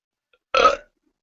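A single short, close human burp, loud and alone in quiet surroundings.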